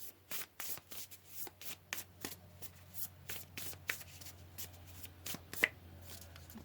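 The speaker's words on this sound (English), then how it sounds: "Let's pull some more cards." Tarot cards being shuffled by hand, a steady series of soft riffling rustles repeating roughly twice a second, close and quiet with a faint low hum underneath and no talk.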